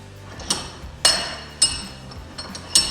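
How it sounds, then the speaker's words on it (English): A chainsaw is repositioned and clamped in a bench vise, giving a handful of sharp metallic clanks and knocks at irregular intervals, close and fairly loud against a quiet room. "So now I got to flip the chainsaw in the vise and we'll file the other way."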